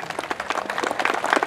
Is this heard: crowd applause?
yes